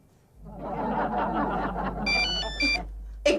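A telephone rings in a bright electronic pattern of repeated tones near the end of the clip, following a stretch of muffled room noise and low background sound, with a brief louder burst at the close.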